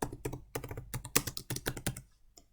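Quick, close taps on a computer keyboard as a campaign name is typed, bursts of clicks with short pauses between them, quiet and alone.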